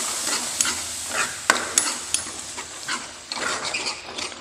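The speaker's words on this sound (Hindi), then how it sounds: "अच्छे से चला करके मिक्स कर देना है।" Tomato and green chili paste is stirred into a sizzling masala, a steady frying hiss broken by repeated scraping strokes and sharp ladle taps against the pan.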